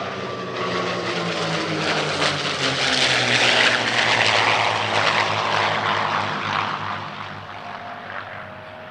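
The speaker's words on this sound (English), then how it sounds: "they primarily fly the P-51 Mustang" Vintage P-51 Mustang warbird propeller fighters fly at an Italian Air Force centenary airshow, with a loud, throaty piston-engine roar and a falling pitch as the planes pass close overhead, then fade slightly.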